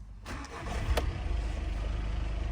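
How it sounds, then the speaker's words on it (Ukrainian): A slightly warmed-up diesel engine of a 2016 Seat Leon cranks and catches, then settles into a close, steady low rumble with a slight knocking pulse. "стартуємо моторчик, запускаємо, він у нас дизельний"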